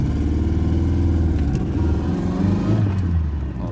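A 1985 Toyota MR2 AW11 engine revs while driving in first gear, heard from inside the car as a loud, steady mid-pitched drone that rises and falls slightly.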